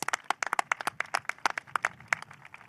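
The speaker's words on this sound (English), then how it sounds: "so give Ed a round of applause." A small group gives a round of applause at a civic development event, with sparse, distinct hand claps in an uneven patter at close range.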